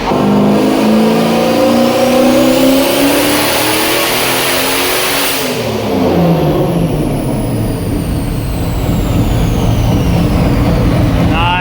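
A loud turbocharged, nitrous-fed Mazda Miata engine revving hard under load on a dyno, its pitch climbing then dropping and stumbling unevenly as it breaks up from suspected faulty ignition coils, with voices speaking over the roar.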